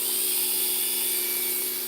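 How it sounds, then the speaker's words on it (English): A loud, steady high-pitched mechanical whine with a constant motor hum from a power drill running continuously without pause. "I'm getting ready to use the drill."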